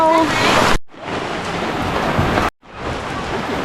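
Rushing water at a jungle waterfall and stream at a camping ground in Thailand, a steady broadband roar cut off twice by brief drops, close and loud.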